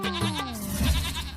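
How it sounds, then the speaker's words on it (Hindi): Goats in an animated Hindi folk tale bleat as a herd is led out to be sold, with a few wavering, falling cries overlapping one another, fairly close and clear. "वो अपने सारी बकरियों को लेकर पहली बार बाहर निकलता है और एक एक बकरी बेचना चाहता है।"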